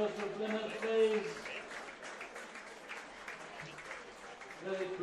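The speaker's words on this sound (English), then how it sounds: "just have a round of applause for Plymouth, please." Crowd applause at a rugby club event for Plymouth Albion RFC, moderate and steady, with voices and chatter mixed in over the clapping throughout.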